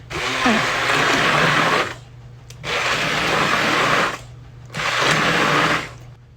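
Blender puréeing butternut squash soup, three loud whirring bursts of about two seconds each separated by short pauses, close and alone.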